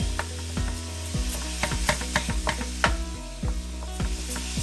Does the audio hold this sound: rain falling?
no